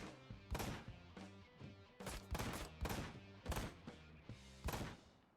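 Gunfire in the video game Ride to Hell: Retribution: loud, repeated bursts of shots in irregular clusters, set against steady game music.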